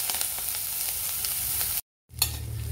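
Chopped onion roasting in a pan for an Indian festive thali, a steady soft sizzle with light stirring that briefly cuts out, then resumes.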